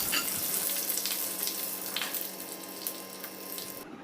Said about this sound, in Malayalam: കടുക് നല്ലപോലെ ഫ്രൈ ആയി വന്നിട്ടുണ്ട്